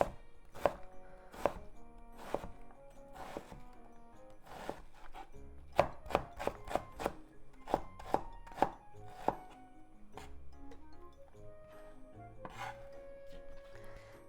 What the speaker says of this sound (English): Then slice.